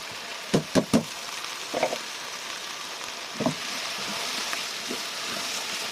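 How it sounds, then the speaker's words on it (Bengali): Rice stir-fried in a pan for vegetable khichuri gives a soft steady sizzle, punctuated by a few close clinks and scrapes of the spoon against the pan. "চালটা দিয়ে আমি চালটা একটু কষে নিই"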